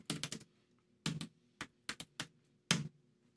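Typing on a computer keyboard while entering commands to install Swift and Vapor on an Ubuntu 20.04 server: a few quick bursts of close, crisp key clicks separated by short pauses, with no talking.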